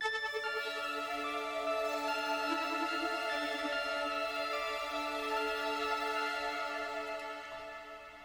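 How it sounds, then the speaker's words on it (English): A piano-like third melody layered into a trap beat sounds alone with the other synths, bright sustained tones holding steady before tapering off near the end. "The third melody is it's like a piano."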